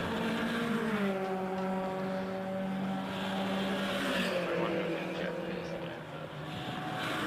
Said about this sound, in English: so cars making their way around